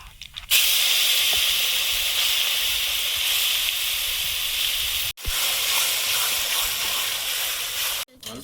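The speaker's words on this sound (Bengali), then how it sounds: "শুকনো লঙ্কা, কালো জিরে, কলা বাটাটা দিয়ে দেবো।" Dried chilli, nigella seeds and green banana paste hit hot oil in a wok, producing a loud, continuous hissing sizzle with a brief break partway through.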